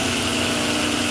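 A bench grinder fitted with a 36 grit wheel cuts the bevels on a knife made from an old rasp, giving a steady, loud, continuous grinding whir for the full stretch, with no talk.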